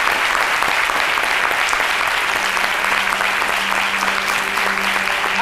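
Studio audience of a French midday TV talk show standing to applaud arriving guests; dense, steady clapping fills the whole stretch at an even loudness, with no talk over it.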